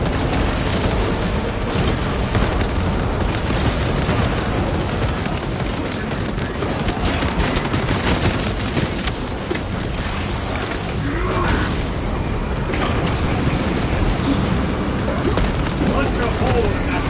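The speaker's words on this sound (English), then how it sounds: "Deploying crack grenade" A crack grenade detonates in Warhammer 40,000: Space Marine 2, a dense booming blast folded into continuous loud combat noise with gunfire and mechanical clatter, while a voice speaks over the action.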